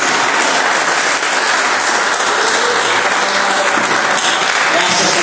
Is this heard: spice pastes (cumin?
no